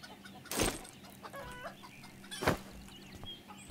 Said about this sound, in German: Weil wir haben jetzt halt viele Hühner.